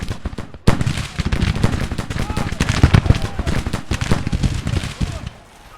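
Rapid musket volleys crackle in a Civil War battle in the Grand Tactician strategy game, a dense barrage of overlapping shots pounding continuously, loud and close, with a voice talking over the gunfire.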